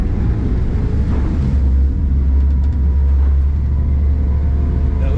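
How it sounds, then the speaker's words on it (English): The outboard motor of a beached Stabicraft 2250 WT boat runs in reverse with a steady, close, low rumble, mixed with wind buffeting the microphone and no talking. "Now I'm going to hit it in reverse, spin that motor, hit it in reverse."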